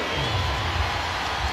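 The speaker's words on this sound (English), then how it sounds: "the crowd enjoying that call" Basketball arena crowd cheering a foul call on Shaquille O'Neal, a loud dense roar of many voices sustained throughout.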